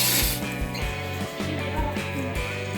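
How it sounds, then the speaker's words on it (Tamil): A grinder grinds mutton pieces for brinjal mutton kola urundai kuzhambu, a mechanical ratcheting whir with rhythmic clunking pulses, close and fairly loud, with no talking. "மட்டனை வந்து நம்ம அரைச்சி எடுத்துக்குவோம்."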